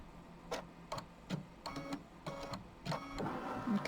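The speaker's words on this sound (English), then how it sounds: "then it's going to do the tack down all the way around" An embroidery machine stitches the tack-down line around a quilt block, making a quiet, close series of mechanical clicks and short whirring bursts in an irregular rhythm.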